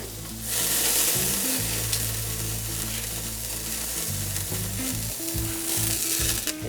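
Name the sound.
steak sizzling on the grill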